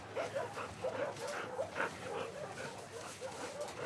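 A dog in The Last of Us Part II video game barks and whimpers excitedly, a string of short yips and whines repeating at moderate volume over a low background hum.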